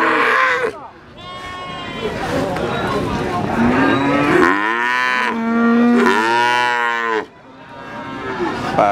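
Simmental and Limousin cattle moo loudly and repeatedly at the Kurang Gareng livestock market in Magetan, East Java, long drawn-out calls layered over one another amid crowd noise and people talking.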